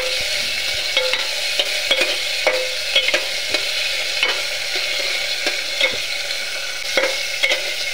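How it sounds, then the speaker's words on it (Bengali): Chopped tomatoes and green chillies fry in mustard oil with a steady, dense sizzle, broken by repeated scraping taps of a spoon stirring the pan, close and loud with no talking, while cauliflower and potato curry is cooked. "আগে থেকে কেটে রাখা টমেটোগুলো দিয়ে দেবো, আর দিয়ে দেবো কাঁচা লঙ্কা, দিয়ে দেবো ভালো করে নাড়াচাড়া করে নেব"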